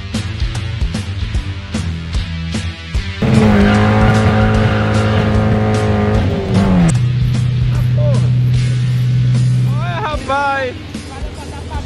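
Peugeot 306 Rallye accelerating hard on a 0-100 km/h run, its engine climbing steeply in pitch through the gears with a brief drop at a shift, loud and close, with faint voices underneath.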